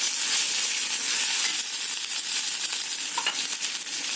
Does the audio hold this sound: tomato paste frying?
yes